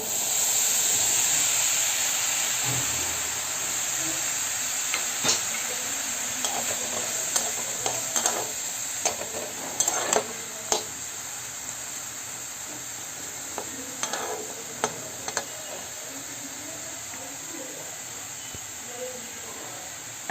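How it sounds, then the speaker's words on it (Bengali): Cut green apple cooks in a hot wok with a continuous frying hiss. A spoon scrapes and taps out a cluster of stirring clicks in the middle, then the sizzle carries on alone. "আমি কড়াটা গরম করতে বসিয়ে দিয়েছি কেটে রাখা আপেলটা আমি এর মধ্যে দিয়ে দিচ্ছি"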